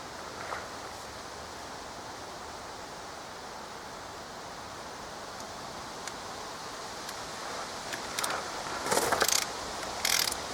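Torque wrench ratcheting in short bursts near the end while the wheel nuts are tightened on a Suzuki Carry, after a long stretch of steady low background noise.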